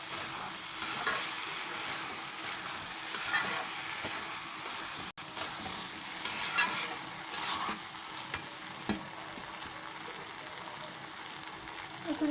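Lentils (dal) fry in a pan and get stirred, mixed with egg, giving a faint, steady sizzle with soft scraping strokes and occasional small knocks against the pan.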